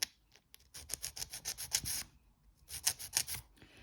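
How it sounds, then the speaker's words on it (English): An old nail file rasps along the side walls of acrylic nail tips, close and fairly quiet, in a run of short scratchy strokes, a brief pause, then a second quick burst of strokes. "I'm just going in with a file. This is an old file."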